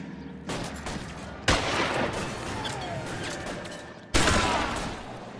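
Gunfire rings out in a shootout in the video game L.A. Noire, with several sharp, loud shots and bursts; three heavy blasts stand out above a continuous crackle of rapid firing.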